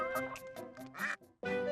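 Several rapid duck quacks in a chattering series, followed by a pause and one more loud quack, close and clear.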